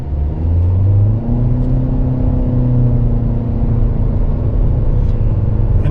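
A 2024 Chevrolet Malibu RS with a CVT pulls away from a stop, its engine rising quickly to a steady loud drone that holds at a near-constant pitch, heard from inside the cabin with no talk.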